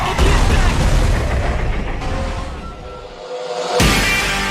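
Explosion from Fast and Furious 9 as a plane crashes into a truck: a loud booming blast that rumbles and fades over a few seconds, drops nearly to silence, then swells again with a second burst.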